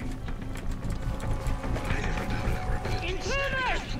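Horse hooves clip-clop steadily in the Far Cry 6 video game, close and fairly loud under ongoing game noise and voices, with a short whinny near the end.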